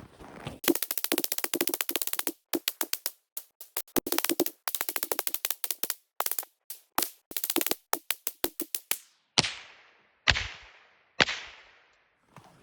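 A Ruger 10/22 rifle firing at a refrigerator, with rapid strings of sharp, crisp shots broken by short pauses, then slower single shots toward the end. The shots sound moderately close, and no one speaks.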